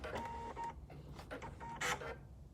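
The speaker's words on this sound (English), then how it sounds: "Nice crisp sounding thread cutter." Thread cutter on a Pfaff Quilt Ambition 630 sewing machine, giving a few short, crisp mechanical clicks and whirs at low level, close by in a quiet room.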